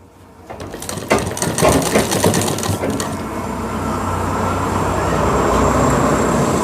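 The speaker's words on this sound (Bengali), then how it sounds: "তারপর এখানে আমি" A sewing machine stitching a shirt: after a second of rattling mechanical clatter it settles into a steady, continuous whirring run that holds loud and close to the end, with no talking.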